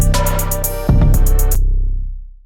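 A sliced rap beat loop from the Atlanta Rap Pack plays with punchy drums, hi-hats and a deep bass hit midway, then cuts off and rings out briefly into silence.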